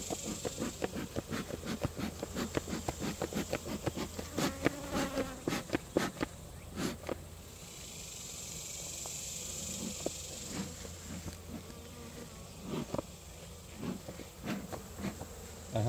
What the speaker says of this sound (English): I have bees around me, around my head.